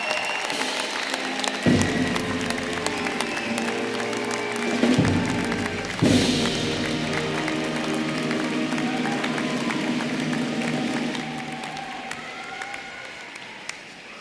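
A large audience applauds at a dental school commencement ceremony, a steady dense wash of clapping that lasts throughout. A few louder bursts rise near the start, and a faint voice or two comes through now and then.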